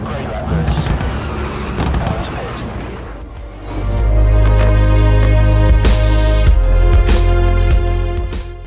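A Mercedes-AMG GT R sports car engine starts up and roars, revving in loud bursts with a deep idling rumble between, close by amid crowd noise at a launch event.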